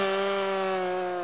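A chainsaw runs steadily at high revs while cutting logs during a logging job, loud and close, a continuous buzzing whine with no pauses and no talk.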